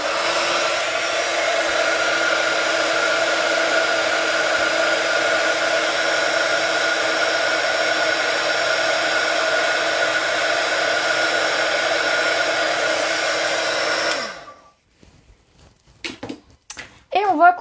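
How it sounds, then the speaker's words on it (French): A heat gun blows loudly and steadily for about fourteen seconds while heating embossing powder on a craft label, then cuts off, followed by a few brief clinks and a short voice. "je vais prendre le pistolet rapidement pour chauffer"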